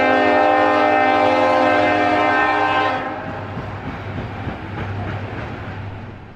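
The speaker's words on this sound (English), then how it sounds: "Leading things off was a northbound BNSF coal train." Northbound BNSF coal train sounding a loud, sustained multi-tone horn for about three seconds, then rumbling past with steady wheel and railcar noise close by.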